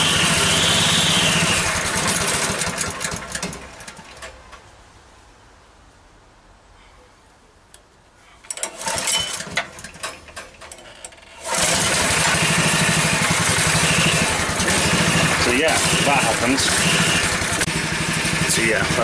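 Petrol leaf blower engine with the choke on, loud and steady at first, then dropping to a low idle. It briefly surges, falls back, and returns to a loud constant drone.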